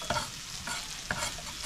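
Garlic and butter frying in a pan as it is stirred, a steady soft sizzle with three scraping stirs, quiet and close.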